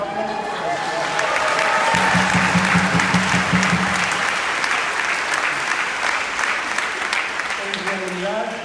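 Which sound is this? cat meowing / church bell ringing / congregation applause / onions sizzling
congregation applause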